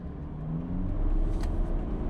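A car engine rumbles low and steadily as it climbs a steep dirt hill, building slightly in loudness over a couple of seconds, with no voices.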